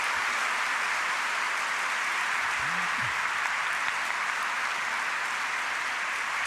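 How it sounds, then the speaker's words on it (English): Sustained audience applause for a panel discussion, a dense steady wash of many hands clapping at even loudness throughout. "I just want to invite one more round of applause for all three of these panelists"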